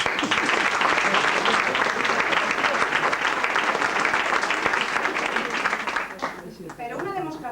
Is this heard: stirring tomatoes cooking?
no